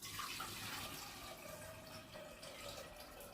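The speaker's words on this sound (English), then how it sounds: "First take 3 glasses of water and pour it into a vessel." About three glasses of water are poured into a cooking vessel, making a faint, steady trickling stream that runs without a break for a few seconds.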